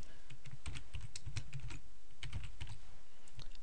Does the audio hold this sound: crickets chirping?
no